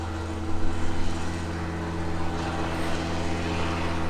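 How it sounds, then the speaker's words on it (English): A steady low mechanical drone of a helicopter passing overhead, fairly constant with slight swells, no voices. "That helicopter again."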